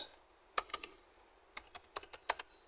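Keys on a computer keyboard are tapped in short uneven bursts of a few clicks each, crisp and close, with quiet pauses between groups and no talking.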